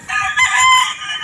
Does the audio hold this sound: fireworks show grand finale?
no